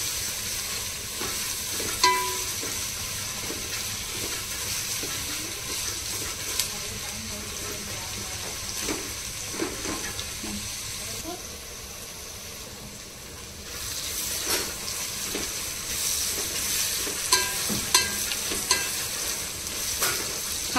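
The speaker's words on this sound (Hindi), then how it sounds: "और हमें हमारी प्याज को ना अच्छे से फ्राई करना है" Onions frying in a pan for chicken do pyaza, a steady low sizzle with intermittent scraping stirs throughout, fairly quiet and close, with no talking.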